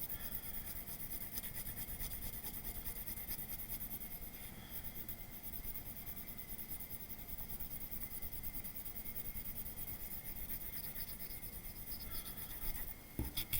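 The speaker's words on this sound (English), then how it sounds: "Put your pencil on its side. Load up the back of the paper with some pencil." A pencil held on its side is rubbed back and forth across the back of a sheet of paper, producing a faint, continuous scratchy rasp that stays even throughout and ends with a few louder scrapes.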